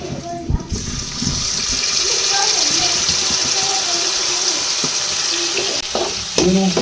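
A tamarind and jaggery mixture stirred in a pan, a steady close bubbling sizzle with scraping, closing with a few clattering knocks, while a voice talks faintly in the background.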